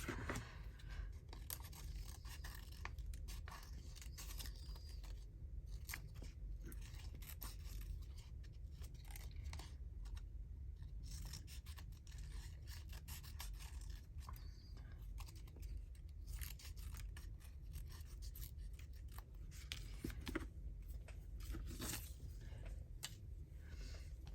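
Scissors cut paper for handmade no-sew mini journals, giving a steady, continuous snipping and scraping close by across the whole stretch, alone with no talk.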